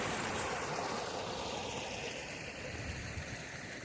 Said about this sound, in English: So below the rapids, the creek is flowing freely.